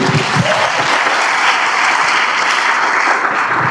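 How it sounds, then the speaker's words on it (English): An audience claps steadily at a graduation ceremony, a dense, loud, continuous wash of applause from start to finish with no talk over it. "Let's clap for him"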